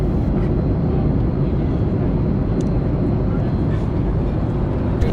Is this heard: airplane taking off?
yes